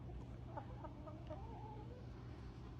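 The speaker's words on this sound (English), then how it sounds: "I was trying to catch Tiny but Mighty's crow" Backyard chickens in a coop cluck and squawk in a few short, mid-loud calls over a steady low hum of background noise.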